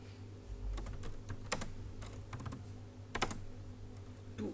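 Code typed on a computer keyboard in a Python lesson, quiet irregular keystroke clicks with a few quick clusters, over a steady low hum.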